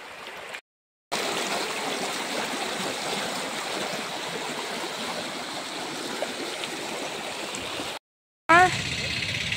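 A large volume of water rushes past in a continuous loud, hissing flow, broken by two brief silent gaps.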